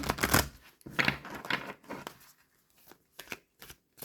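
A deck of cards being shuffled for a card reading draw: a few loud riffling bursts followed by softer, scattered flicks and taps, close up, with no talking.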